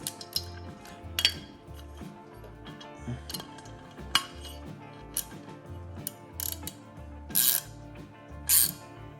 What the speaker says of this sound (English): basically we're just going to tighten it down. This is what's going to basically hold your air cleaner in place